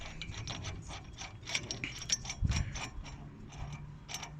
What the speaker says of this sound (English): winding the handle back a little bit, and then just screw this clockwise